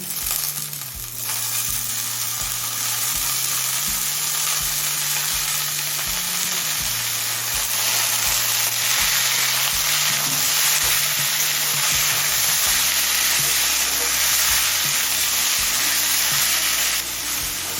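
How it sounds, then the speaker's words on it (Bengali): Snake gourd frying in a pan with onions already browned, giving a steady, loud sizzle that runs the whole time, with no voices over it. "পেঁয়াজটা লাল করে ভেজে নিলাম এবার চিচিংটা দিয়ে দিচ্ছি"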